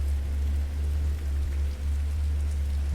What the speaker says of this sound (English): Rain taps softly against the windows.